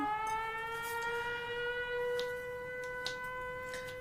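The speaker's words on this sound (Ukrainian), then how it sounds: "Повітряна тривога." An air raid siren holds a steady, sustained wail throughout, loud and unbroken, with only faint background clatter beneath it.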